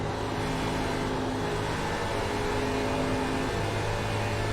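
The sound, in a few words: car tires burning up in turns, iRacing video game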